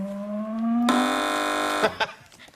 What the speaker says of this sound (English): Fingers on buzzers